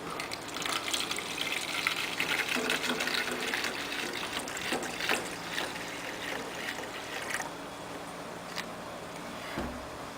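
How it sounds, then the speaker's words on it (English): Vinegar is poured into a container over eggs, giving a steady, continuous liquid gush and splash that lasts throughout, close and moderately loud, with no talking. "Then, add enough vinegar to cover the eggs."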